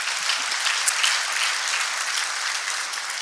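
An audience at an industry panel discussion gives a steady round of applause, dense and even clapping heard alone at moderate volume.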